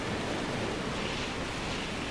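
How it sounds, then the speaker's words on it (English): Ocean waves in Stormworks surge as a loud, dense, continuous roar of surf and wind with no pauses and no voices. "One of these waves is gonna knock us over."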